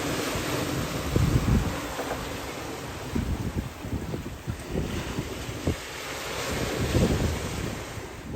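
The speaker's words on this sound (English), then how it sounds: "Seas are picking up a little bit." Rough, steepening sea while sailing a boat from Saint Malo toward Camaret-sur-Mer, with waves sloshing and slapping against the hull under loud, continuous wind buffeting the microphone.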